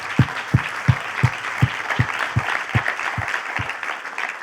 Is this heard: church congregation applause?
yes